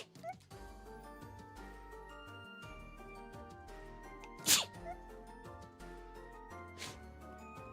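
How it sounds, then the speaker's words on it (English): A single sharp sneeze bursts out about midway through, loud and close, over a steady background of music or tones with faint talk. "Wait, I feel like I'm gonna sneeze."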